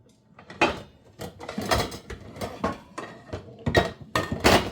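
Metal pots and pans clatter and clank in a kitchen cupboard as a small pan is pulled out from the bottom, with several sharp knocks and scrapes in uneven bursts, close and moderately loud.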